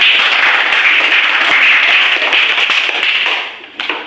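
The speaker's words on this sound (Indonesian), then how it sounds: "Kalian tepuk tangan semuanya." Students in a classroom break into dense, loud, steady clapping that holds for about three seconds before quickly fading to scattered claps.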